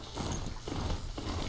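Hooves of a robotic horse mount clop in rapid, steady rhythm in the Horizon Zero Dawn video game, close and moderately loud with no talk over it.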